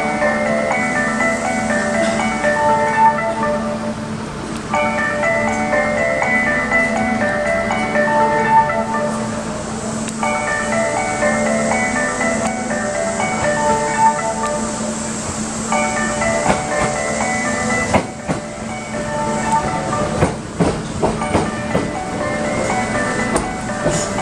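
A Kintetsu 21020 series Urban Liner limited express bound for Nagoya pulls into Tsuruhashi station, with a steady hum, a repeating chime melody over the platform and clattering wheels near the end.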